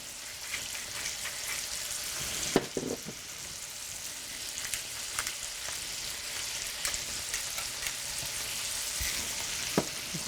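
Sauce boils up quickly in a pan on the stove, giving a continuous bubbling hiss scattered with small pops and crackles. It is heard alone, with no talking.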